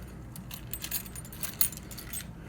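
Metal keys jangle on a keychain holding a small pry bar, a bright, busy rattling with several sharper clinks, close to the microphone and without speech.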